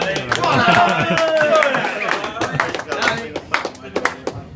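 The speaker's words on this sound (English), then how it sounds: "So a big round of applause for Alex" A round of applause breaks out at an end-of-season team gathering, with scattered close claps and cheering voices at first, then thinning out into a few separate claps.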